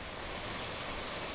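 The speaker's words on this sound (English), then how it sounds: "Just the sounds of the water." Water pouring steadily at Hin Lad waterfall on Koh Samui, Thailand, a constant broadband rushing wash with no breaks or voices.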